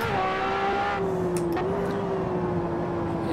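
A McLaren P1 race car engine in Assetto Corsa holds a loud, steady high drone in sixth gear on a long acceleration run, pitch easing slightly with a brief shift midway, close and unbroken.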